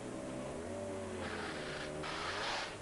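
BTCC touring cars from 2000 at Brands Hatch, a Honda and a Vauxhall, rolling into the pit lane side by side, with a steady engine drone that shifts in pitch and bursts of hissing noise, fairly loud and near.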